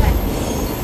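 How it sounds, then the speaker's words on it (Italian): The Trenino Verde tourist train rolls through the mountains of Sardinia with a brief burst of heavy, close rumbling and rattling wheels on the rails. "incominciamo a viaggiare su questo trenino verde della Sardegna."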